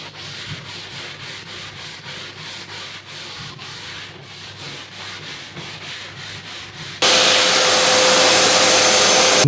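Sandpaper scrapes back and forth along a wood veneer edge in quick, regular strokes, close by, followed by a loud, steady whirring hiss that takes over at the end.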